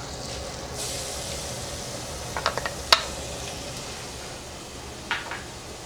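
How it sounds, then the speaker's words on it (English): Onions added to a hot pan for chicken Florentine sizzle in a steady low hiss, with a few sharp clinks and scrapes of stirring partway through and another light clatter near the end. "Go ahead and add our onions."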